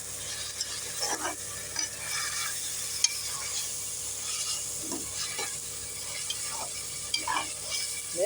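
Biryani masala sautés in a pan while a spoon stirs it in regular scraping strokes over a constant close sizzle. No one speaks.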